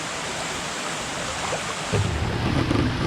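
Water at Tat Kham waterfall in Nakhon Phanom rushes in a continuous broad hiss, steady and moderately loud, with a slightly deeper churning rumble coming in toward the end.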